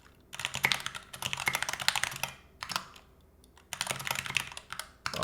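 Quick bursts of typing on an NK65 prototype mechanical keyboard, sharp close keystrokes clustered into runs separated by brief gaps, heard alone without any voice.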